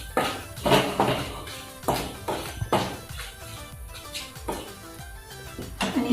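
A spoon stirs red chilli powder into a dal tadka in a pan, giving irregular clinks and scrapes of metal on metal in short bursts with quieter pauses between.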